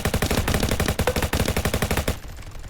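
Rapid automatic gunfire from a Call of Duty-style Roblox shooter, a loud, tightly spaced burst of shots lasting about two seconds, then cutting off into quiet.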